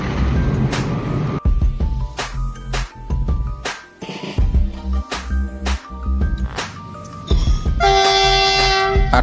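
Freight train crossing a road at a level crossing, loud and close with continuous wheel rumble, sharp rhythmic clanks and bursts of horn, ending with a high ringing tone.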